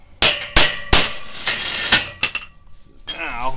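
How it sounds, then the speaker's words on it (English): A hammer strikes a metal futon frame pipe to beat and reshape it, giving five sharp, ringing metallic blows in quick succession, close and loud, followed by lighter taps and a scrape. "then I beat the pipe down into there and then tap the sides to reshape the pipe"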